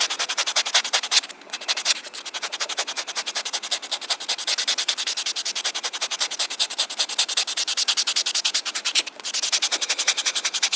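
Rapid rhythmic scratchy rubbing, a fast back-and-forth buffing of an acrygel nail surface, close and steady with a couple of brief pauses.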